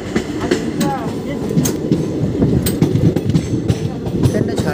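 A passenger train runs steadily on its rails, a continuous rumbling clatter of wheels with a few brief squeals and clacks on top, heard from on board.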